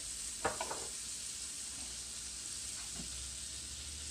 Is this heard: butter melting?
yes